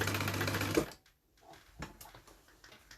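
Sewing machine stitching a bag with a Butler zip: a fast, loud rattling run of stitches that stops abruptly, followed by a few quiet clicks and handling sounds.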